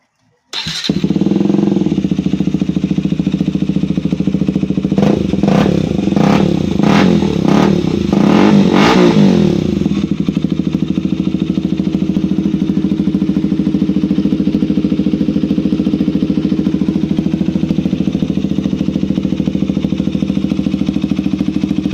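A KTM Duke 200 motorcycle fitted with a stainless steel exhaust elbow starts up loud and close, gives several sharp throttle blips, then settles into a steady, rumbling idle.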